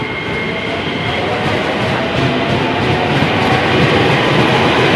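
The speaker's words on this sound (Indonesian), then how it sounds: "Ya ini bentar lagi udah mau sampai ya keretanya." A KRL Bogor Line commuter train rumbles loudly and steadily on the rails as it pulls into a station, its broadband roar swelling slightly toward the end, with no talking over it.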